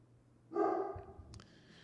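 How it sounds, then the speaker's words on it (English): A dog gives a single bark in the distance, followed by faint muffled sounds in an otherwise quiet room. "here goes my dogs barking up a storm."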